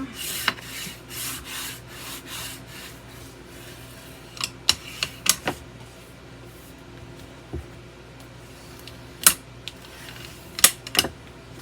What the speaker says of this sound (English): I use my bone folder to smooth it out.